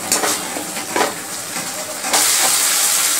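Spiced jackfruit with ginger sautéed in a pan, a steady close sizzle and hiss with scraping stirs, swelling into a louder, brighter hiss near the end.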